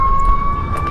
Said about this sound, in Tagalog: Tumulog na yung sirena rito.